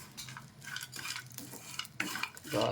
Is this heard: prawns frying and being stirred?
yes